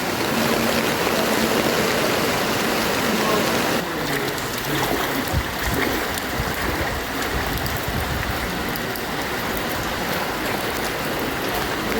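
Floodwater from monsoon rain and high tide flows through a submerged housing society, a continuous loud rushing wash with steady splashing and gurgling, unbroken across the whole stretch.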